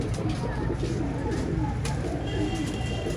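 Pigeons in a loft of prized birds, soft overlapping cooing from several birds at close range over a busy murmur of background noise.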